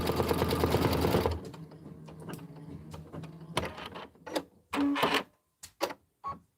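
A home embroidery machine stitches a butterfly and beverage design, its fast mechanical needle whir steady and loud for about a second before giving way to quieter clicks, thumps and handling noises.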